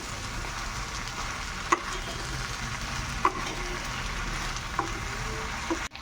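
Vegetables being stirred with salt in a hot pan, a steady broadband sizzle running throughout with a few soft spoon scrapes or taps against the pan, close and moderately loud, no voices.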